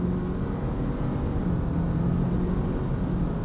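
A 2026 Subaru Forester Wilderness with a boxer engine and CVT accelerates flat out, giving a steady, droning engine and road rumble heard from inside the cabin with no letup.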